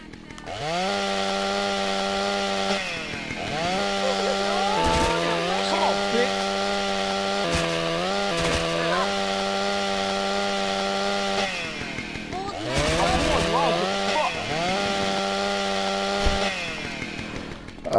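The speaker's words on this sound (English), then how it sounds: "I'm going chainsaw massacre on you" Chainsaw in the video game GTA San Andreas on PS4, a loud buzzing motor that revs up and down repeatedly over eighteen seconds with brief drops, beneath shouted talk.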